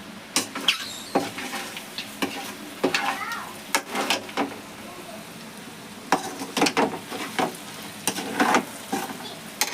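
Liver fry with masala sizzles in a pan while being stirred, giving a quiet background crackle broken by repeated sharp scrapes and clinks of the spoon at an uneven rhythm, close and fairly faint.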